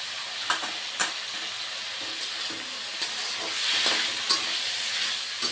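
Potatoes and long beans fry in a pan with turmeric, giving a bright continuous sizzle broken by repeated scraping and knocking as the spatula stirs them.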